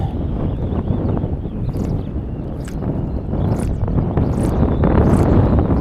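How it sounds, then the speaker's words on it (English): Strong gusting wind on a lake during spring fishing, gusts up to 27 mph, heavy low buffeting roar against the microphone, loud and continuous with periodic sharper splashy bursts. "It's really windy."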